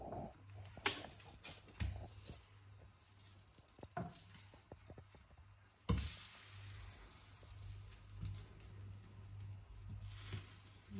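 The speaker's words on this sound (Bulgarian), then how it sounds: "Обаче аз май да обръщам палачинките," Pancakes frying in a pan on a home stove, a soft steady sizzle and patter with scattered clicks and scrapes from handling, fairly quiet and with no talk.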